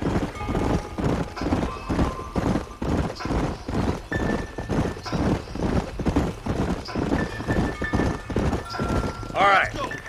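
Several horses trot together in Red Dead Redemption, a loud rhythmic clatter of hoofbeats running throughout, with a horse whinnying near the end.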